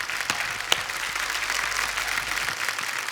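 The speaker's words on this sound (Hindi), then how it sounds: "एक बार जोरदार तालियां हमारे सभी कंटेस्टेंट्स के लिए और हमारे जजेस के लिए" A studio audience on a TV singing show gives loud, sustained applause for the contestants and judges, dense clapping filling the whole stretch with one sharper clap standing out early.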